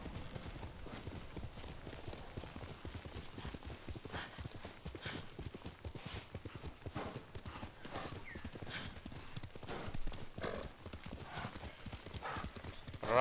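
Horse hooves clip-clop steadily in the video game Ghost of Tsushima, a continuous rhythmic trot running the whole time with occasional whinnies and faint talk in the background.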